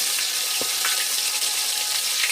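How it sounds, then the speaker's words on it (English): Steady, dense sizzling of chicken frying in a pan, loud and continuous with occasional pops and crackles. "Frying chicken, baby. Enjoy the sound."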